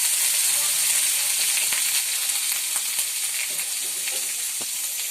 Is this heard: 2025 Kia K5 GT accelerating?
no